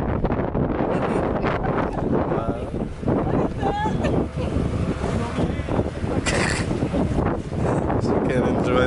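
Boat ride on open water in Costa Rica, with strong wind buffeting the microphone and steady engine and water noise throughout, while people talk over it.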